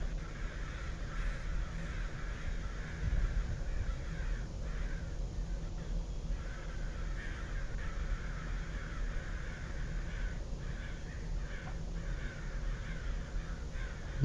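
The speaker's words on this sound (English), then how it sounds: "And a bunch of crows coming in too." In the video game Three Fourths Home, crows caw repeatedly at a distance over steady, windy ambient noise that suggests a coming storm.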